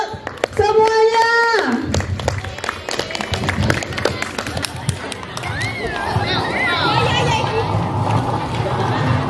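Dense clapping from a school student council election debate audience runs through the clip, with a tonal melody briefly at the start and voices and crowd noise mixed in.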